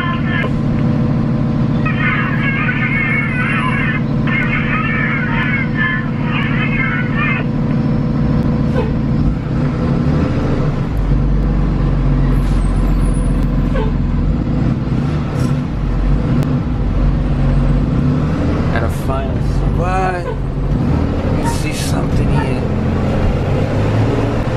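A bus for sale with a Cummins diesel engine runs steadily close by, a deep continuous rumble with some revving, while people talk over it and a radio plays at times.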